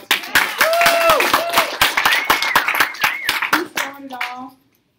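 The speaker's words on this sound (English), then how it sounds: "We need to give Adam a special round of applause." A small group claps for Adam at the grand opening of a Columbus office, distinct individual hand claps in an uneven rhythm under overlapping talk, including a voice, stopping abruptly near the end.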